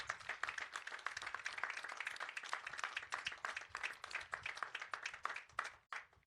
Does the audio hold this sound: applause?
yes